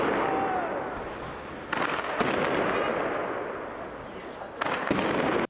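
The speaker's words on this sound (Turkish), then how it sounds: "Göstericiler kısa süre sonra olay yerine gelen zırhlı araçlara da molotof kokteyli ve havai fişeklerle saldırdı." Fireworks launched by protesters at armored police vehicles during a street clash, heard as a dense, sustained crackling roar with two sharp, loud bursts standing out, one near the start and one near the end.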